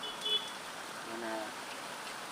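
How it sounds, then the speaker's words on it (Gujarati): Rain falling steadily over a Revaniya village as a soft, even wash of drops, faint and continuous, with a brief spoken word near the start. "વરસાદ ચાલુ છે"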